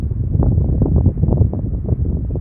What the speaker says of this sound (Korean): 바람 느껴보세요 산 정상에 있는 거라